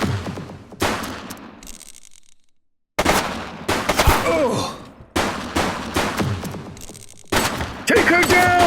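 Gunfire bursts in the police game The Precinct, loud rapid volleys of shots repeating in several separate bursts, broken by short silences, with shouted voices mixed in.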